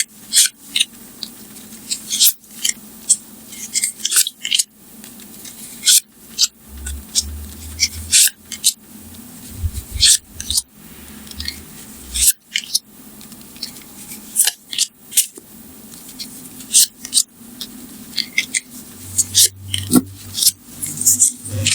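Tarot cards being shuffled and drawn from a deck, giving repeated soft rubbing and crisp flicking card snaps, close and clear in bursts with short gaps.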